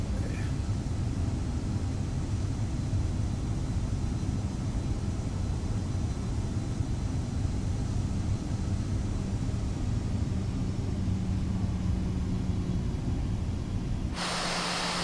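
An Airbus A319 taxiing in Microsoft Flight Simulator on Xbox, a steady broadband engine roar and rushing hiss held constant and loud throughout, cutting off sharply near the end.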